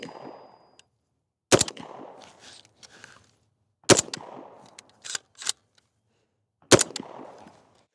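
Three sharp suppressed rifle shots from a 300 Blackout fitted with a Jackal suppressor, spaced a couple of seconds apart outdoors, each a crisp crack with a short decaying tail and quiet clinks in between.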